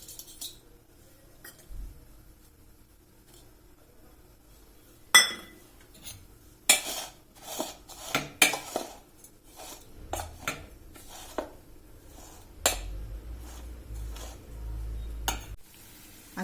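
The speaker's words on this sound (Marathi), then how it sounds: "आता पाण्याला उकळी येईपर्यंत आपण भाजी आणि बेसन कालवून घेऊ" A spoon scrapes and clinks in a bowl as chickpea greens are mixed with gram flour, with irregular close-up stirring, rubbing and sharp clatters, and dull thumps near the end, loud against a quiet kitchen.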